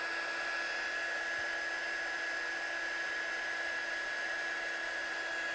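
A dryer blowing air to dry watercolour paint on a handmade card, a steady loud whirring drone with a constant high whine, running unbroken throughout.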